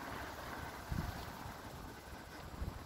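Steady low rumble of wind buffeting the microphone outdoors, with gusty swells and no voices.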